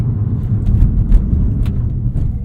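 Deep, close engine rumble from a 2021 BMW M5 Competition with carbon ceramic brakes, loud and steady for a couple of seconds with no talking.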